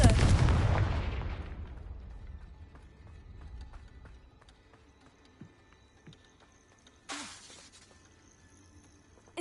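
A Confringo blasting-spell explosion in Hogwarts Legacy, a loud booming blast at the start that decays over a couple of seconds, followed by faint thuds and a second short burst, with no talking.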